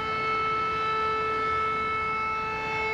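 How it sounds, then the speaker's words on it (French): An air raid alert siren in Chernihiv, Ukraine, sounds a loud, steady, unbroken tone that holds throughout with no rise or fall. There is no talking. "les sirènes d'alerte retentissent en moyenne 3 fois par jour"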